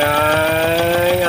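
A rewired roller coaster ride's engine starting up with a steady, loud mechanical drone and strong tonal hum, a continuous running note holding throughout.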